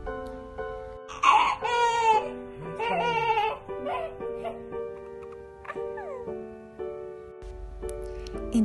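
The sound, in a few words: newborn baby crying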